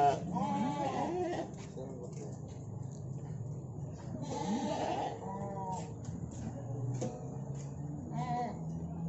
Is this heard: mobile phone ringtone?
no